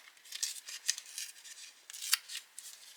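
Scissors snip through paper to cut a straight edge while crafting paper scraps, a series of close, crisp, irregular cuts and rustles with no talking.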